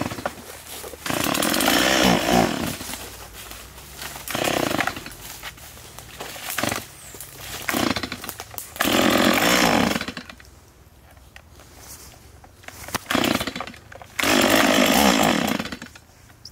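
A chainsaw cuts low tree stumps outdoors in loud, repeated bursts of a few seconds each, the engine dropping to a quieter idle between cuts.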